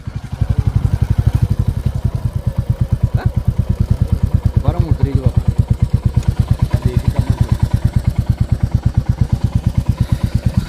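A motorcycle engine idles steadily with an even, rapid putter, close and constant, while a voice briefly speaks over it.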